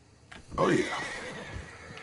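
Horse in Red Dead Redemption 2 gives one loud, close whinny that rises and trails off, with faint clopping around it.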